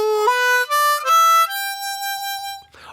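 A harmonica plays a major pentatonic scale, clear reedy notes stepping upward and then settling on a held tone, close with no talking.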